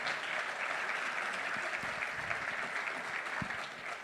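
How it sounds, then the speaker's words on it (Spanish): Steady, sustained applause from a sizable crowd at a church congress, dense clapping filling the whole stretch without pause. "un fuerte aplauso"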